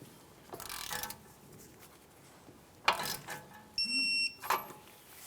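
A torque wrench tightens a nut on the upper control arm and outer tie rod of a 2002-2005 Ford Explorer, making quiet metallic clicks and clinks. A short, high electronic beep sounds near the end.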